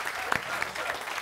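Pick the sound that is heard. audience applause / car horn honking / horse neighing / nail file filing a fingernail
audience applause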